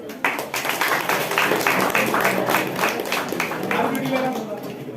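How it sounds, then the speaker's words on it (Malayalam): An audience at a job orientation programme breaks into a sustained round of clapping, dense and steady for several seconds, with voices mixed in. "നല്ലൊരു ക്ലാപ്പ് കൊടുക്കും."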